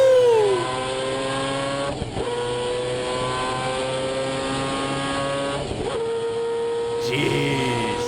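A Mazda 787B race car engine screams at high revs on an onboard lap at Le Mans, rising in pitch through each gear, with sharp dips at the shifts; loud and continuous, no talk.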